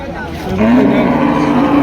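A single low, drawn-out moo from a Holstein Friesian cow rises steadily and holds, with faint background voices and noise around it at a cattle market in Comilla, Bangladesh.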